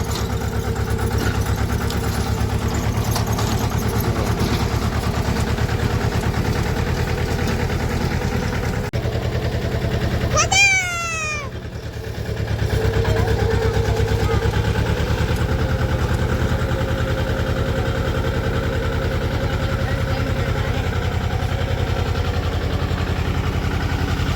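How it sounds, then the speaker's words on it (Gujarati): A tractor engine runs steadily while digging sweet potatoes out of a field, a continuous mid-pitched drone with a brief dip and a sharp whistling sweep midway before the engine resumes. "ટ્રેક્ટર આપણે આવી ગયું છે અને શકરીયા કાઢે છે"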